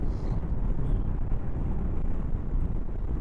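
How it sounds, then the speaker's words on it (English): Steady broadband wind noise rushes past while riding a SYM Maxsym 508TL scooter at speed, a dense, continuous roar with engine and road rumble underneath and no gusting or buffeting. "I'm getting quite a bit of wind noise, but I'm getting no buffeting."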